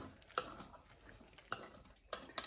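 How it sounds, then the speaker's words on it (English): A spoon or utensil clinks against a bowl while shrimp and egg mixture is stirred, giving a few sharp, separate taps spaced over a couple of seconds, fairly close and otherwise quiet. "Stir it up."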